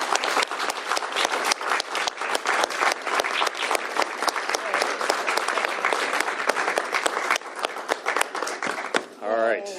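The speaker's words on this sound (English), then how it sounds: "Please give her a big round of applause." A room full of people applauds a state senator at a governor's bill signing, loud continuous clapping with sharp individual claps standing out, tapering off at the end as a voice begins.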